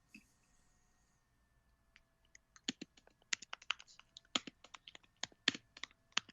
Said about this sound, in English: someone's typing away